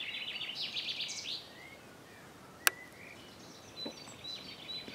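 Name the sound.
birds singing with wind in trees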